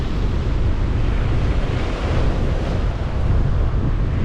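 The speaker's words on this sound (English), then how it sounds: "listen to that glorious sound of the waves breaking against this wee stony shore" Waves break steadily on a small stony Scottish shore, a loud, continuous rush of surf with wind buffeting the microphone and no voices.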